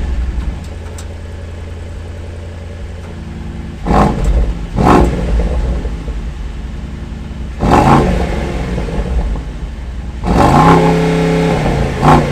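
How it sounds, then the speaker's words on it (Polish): An inline five-cylinder engine in a used convertible car idles steadily, then is revved loudly four times in short, sharp bursts, each rise falling back to a rumbling idle. "albo tak jak tutaj 5 cylindrów w rzędzie, no ale niech to daje jakieś też dźwięki"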